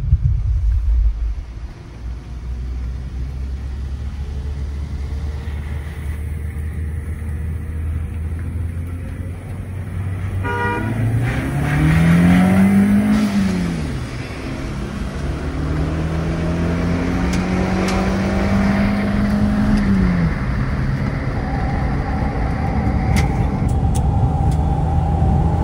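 A Ford Figo 1.2 and a Santro Xing 1.1 accelerate hard in a drag race from a rolling start, engines whining up through the gears with rising pitch sweeps and a gear change, alongside a steady low road rumble.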